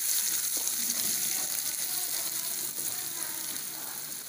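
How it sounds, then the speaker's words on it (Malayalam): Vegetable biryani masala with chopped curry leaves frying in a pan, a dense continuous sizzle and hiss filling the whole stretch, stirring barely distinct beneath it; close and steady, no talking. "ഇനി നന്നായിട്ടൊന്ന് ഇളക്കി കൊടുക്കുക"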